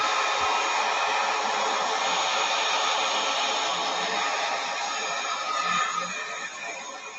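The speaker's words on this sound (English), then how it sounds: "let's take the heat gun to it and see what happens" Handheld heat gun blowing hot air over poured resin: a steady, close, loud whooshing hiss of fan and airflow lasting several seconds, easing slightly toward the end.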